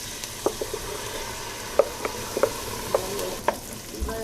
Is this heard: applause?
no